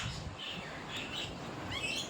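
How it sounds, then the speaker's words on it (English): Pigeons and small birds chirp and call outdoors at moderate distance over steady background noise, with brief tweets scattered through and a brighter burst near the end. "Get the pigeons."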